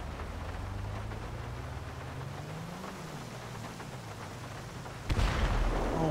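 A sudden, loud explosion booms in GTA 5 on a rainy night, cutting through a constant hiss of rain and a low engine hum about five seconds in. Its rumble carries on to the end.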